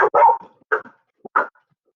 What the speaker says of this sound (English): the dog started to bark